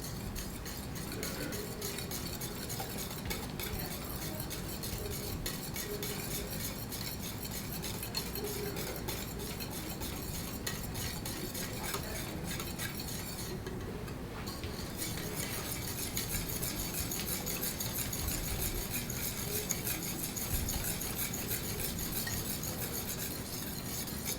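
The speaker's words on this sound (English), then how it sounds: "Actually going to whisk this, so again keep it smooth, a smooth cream." Strawberry cream being whisked smooth in a bowl, a steady close scraping and stirring clatter that runs continuously with soft clinks of the whisk against the bowl.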